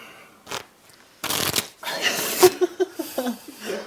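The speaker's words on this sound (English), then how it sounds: "Let's shuffle." A deck of playing cards is shuffled during a close-up card magic routine, giving several short crisp riffling bursts with a quick rustle, close and clear, amid light laughter and breathing.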